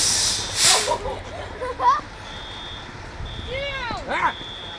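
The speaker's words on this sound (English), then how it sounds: "Big fire engine." A fire engine's reversing beeps sound as a steady, high, intermittent tone at a school during a fire alarm, mixed with loud hissing bursts and short chirping whoops.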